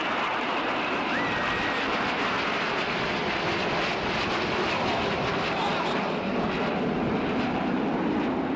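Red Arrows jets, including the Synchro pair, roar past in formation at an air display, a loud sustained broadband engine rush that swells and fades over several seconds with crowd murmur underneath.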